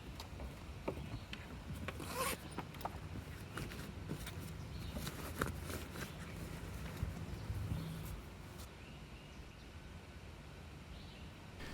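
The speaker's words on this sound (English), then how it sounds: "As you zip shut the cover all the way around" Zipper on a 23Zero Breezeway roof top tent cover being pulled shut around its edge, a series of scratchy rasping zips and fabric rustles, quiet and close, with no voices.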